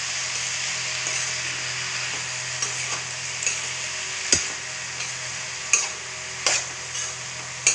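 Thokona flowers and potatoes stirred in a frying pan make a steady close sizzle punctuated by sharp spatula taps against the metal, several clacks in the second half, with no talking.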